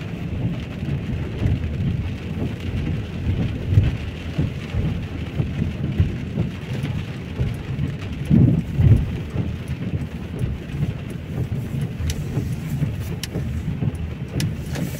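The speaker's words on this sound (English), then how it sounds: "show you the rain that we're getting" Heavy rain pours steadily in Lewsey Farm, Luton, with dense continuous patter on an umbrella and wet street, a few louder low rumbles of passing traffic or distant thunder underneath.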